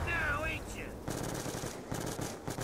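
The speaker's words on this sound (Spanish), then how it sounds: "Yo estoy disparando desde la cadera." Gunfire in a zombie video game, fired from the hip: a rapid burst of shots that repeats a moment later in sharp clusters, loud and close, with game sound effects around it.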